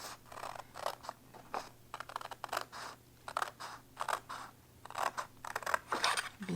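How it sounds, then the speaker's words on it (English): Scissors snip steadily through material to cut out a square, a quick series of close, crisp clicks and crunches in an uneven rhythm with short pauses between cuts. "I'm just going to cut out that square and do it that way. So let me do that. Just get my scissors."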